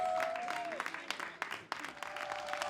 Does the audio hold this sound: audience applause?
yes